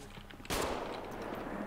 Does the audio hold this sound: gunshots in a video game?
yes